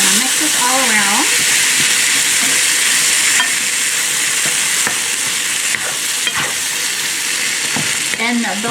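Canned tomatoes being stirred through a hot pan for palak paneer, a loud continuous sizzle and hiss with scraping spoon strokes, and a voice speaking briefly near the start.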